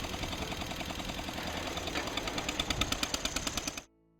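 A tractor engine at Underwood Family Farms in Moorpark, California, chugs steadily close by, its rhythmic knocking growing slightly louder before it cuts off abruptly into silence.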